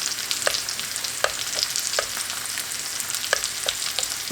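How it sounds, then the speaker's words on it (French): Onions browning in a frying pan make a soft, even sizzle, with sharp clicks and taps from stirring every second or so. "je fais dorer les oignons"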